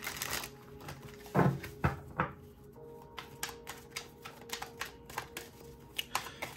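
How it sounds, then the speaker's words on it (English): Rapid papery riffling and flicking as tarot cards are shuffled, followed by a quick series of light snapping taps, close and clear. "I'm going to shuffle cards to see what this person's energy is"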